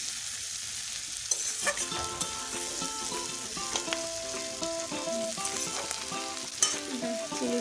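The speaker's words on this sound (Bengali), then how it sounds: "তো চলো এটাও ভালো করে একটু নাড়াচাড়া করে নিই" Chili chicken with capsicum and onion sizzles and is stirred in a pan in a home kitchen, a steady quiet fry with scraping stirs and occasional clinks, no talking.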